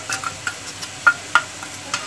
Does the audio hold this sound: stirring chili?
yes